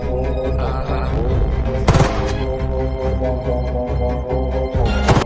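Several gunshots ring out in a gangster film scene as a girl fires repeatedly at three men, sharp bursts standing out over a loud, dense music score for about five seconds.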